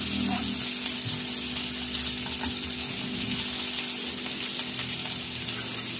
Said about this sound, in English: I am adding curry leaves in oil. Then I am adding onion in oil.